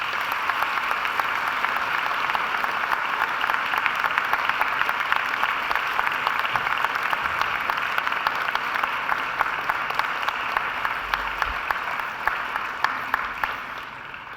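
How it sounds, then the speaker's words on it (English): A graduation audience applauds steadily for over fourteen seconds, a dense, even wash of clapping from a large crowd in a hall. "And now I invite you to give them your friends and family a mighty round of applause."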